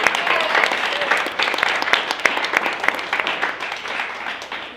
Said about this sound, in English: Let's have a round of applause for the Blue Team.